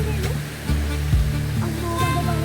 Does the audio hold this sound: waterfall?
yes